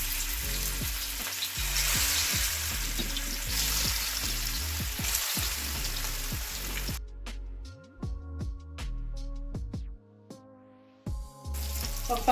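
Fish frying in hot oil on a flat tawa, a loud steady sizzle for the first seven seconds, then quieter crackling with scattered pops and clicks of utensils for the rest.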